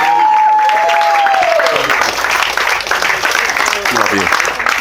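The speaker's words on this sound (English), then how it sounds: "And a big round of applause for Harry and Holly." Wedding guests applauding during the reception speeches, a moderate round of clapping mixed with crowd murmur and a short whistle-like tone at the start, near and steady.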